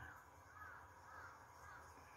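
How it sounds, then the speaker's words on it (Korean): Crows and magpies calling in the morning in Samcheok, a steady run of distant caws and chatter over faint low background hum, with no talking. "까치 까마귀들이 짖어주는 아침이네요."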